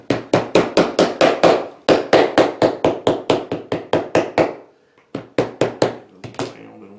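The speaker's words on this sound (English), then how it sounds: "Pounding with our little teeny hammer." A small hammer pounding a leather fillet knife sheath, loud close sharp strikes in a fast even rhythm of about twenty blows, a short pause, then a few more taps.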